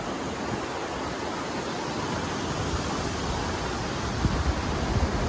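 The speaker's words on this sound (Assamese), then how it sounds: "এইখন নদীখন" The Pagla River in Anini rushes past in a steady, dense broadband wash of flowing water, close and constant with no breaks.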